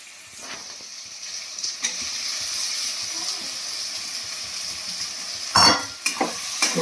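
Capsicum pieces tossed into a pan of frying spices sizzle steadily, with stirring scrapes and a louder burst of hissing and clatter near the end.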